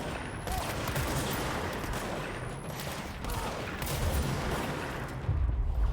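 Sustained gunfire in the video game Control fills the whole stretch, a dense, steady barrage of rapid shots and bursts with heavier booming hits toward the end, loud and close with no talking.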